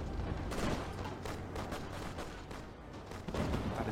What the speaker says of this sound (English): That is too many gunfire noises for one person to process at once.